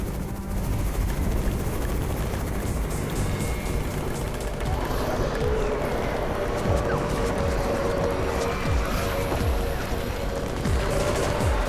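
A loud helicopter drones continuously with heavy rotor thumping, layered with game-like rumbles and faint bursts, while a voice speaks underneath, in the zombie video game Undown.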